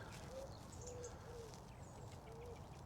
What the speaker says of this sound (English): And the pigeons there.